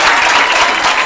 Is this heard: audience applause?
yes